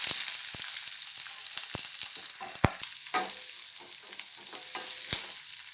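Onion frying in oil with mustard seeds and urad dal for a ridge gourd thokku, a steady close sizzle with sharp popping crackles scattered throughout.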